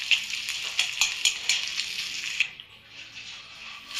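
Ghee sizzling in a pan while frying ingredients for fenugreek ladoo, a steady bright crackle with small spitting pops that eases off toward the end.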